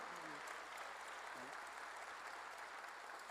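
Congregation clapping during a church sermon, a faint, even patter of many hands heard at a distance, with a brief voice sounding over it.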